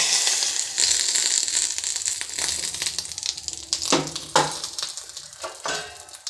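Hot coconut oil poured over aviyal, a Tirunelveli-style mixed vegetable dish with curry leaves, crackling in a few sharp close sizzling bursts over a steady background hiss.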